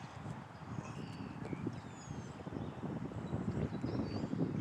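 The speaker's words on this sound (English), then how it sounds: "The wind has greatly increased." Strong wind gusts buffet the microphone, a low, uneven rumble with rising and falling surges that grow slightly stronger toward the end, with no voices.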